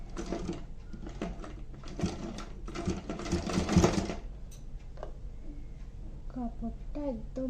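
A sewing machine stitches a gharara frill onto pants in short bursts of rapid stitching, followed by quieter handling noises, with a voice speaking briefly and faint background sounds.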